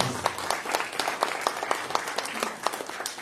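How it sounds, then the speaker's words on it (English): An audience at a Fargo StartupBREW podcast event claps for its sponsors in a steady round of applause, a medium-distance patter of many hands with distinct sharper claps standing out. "So let's give all of them a big round of applause."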